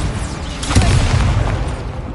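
Incendio fire spell cast in the Hogwarts Legacy video game, a loud whooshing burst with a rumbling, crackling low-end body that swells near the start and sustains for a couple of seconds, heard alone without talk.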